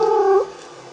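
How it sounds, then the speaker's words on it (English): A short, close cat vocalization: a brief chirpy trill that fades into a soft, low rumble. "This includes purring and the little chirpy trill sound."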